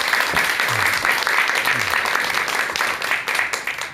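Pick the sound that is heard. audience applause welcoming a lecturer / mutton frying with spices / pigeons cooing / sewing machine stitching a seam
audience applause welcoming a lecturer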